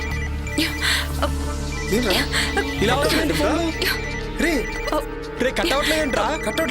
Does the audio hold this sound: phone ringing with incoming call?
yes